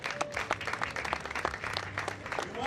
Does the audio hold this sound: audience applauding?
yes